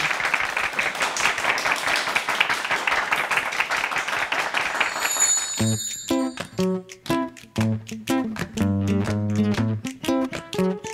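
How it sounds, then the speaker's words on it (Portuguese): Studio audience applause on a children's variety TV show, a dense clapping wash for about five seconds that then gives way to loud, rhythmic music. "Uma salva de aplausos para a gente bem alto, bem alto."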